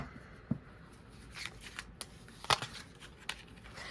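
Tarot cards being shuffled and drawn close up, a soft riffling rustle punctuated by a few sharp card snaps and taps, with no talking.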